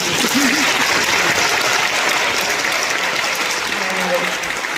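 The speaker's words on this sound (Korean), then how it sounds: "박수 한번 보내주세요" A theatre audience at the National Theater Company's Haeoreum Theater applauds the director during a post-show talk, a dense, steady wash of clapping that fills the hall without pause.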